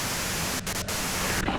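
Steady broadband hiss of white-noise static from the video game Disco Elysium, loud and continuous, with two brief dropouts midway and a short dip near the end.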